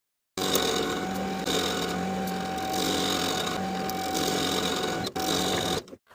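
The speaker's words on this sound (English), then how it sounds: "Then we can sew that hem in place all the way around, sewing along the edge of the upper inner fold." A sewing machine stitches a dress hem along the edge of the upper inner fold, running steadily and alone close by with a continuous whirring drone and a brief hitch near the end.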